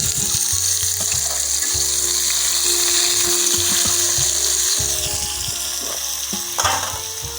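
Onions sizzle and crackle in hot oil for a village-style soybean curry, a dense, continuous frying hiss with occasional stirring scrapes and clinks close by, no voices.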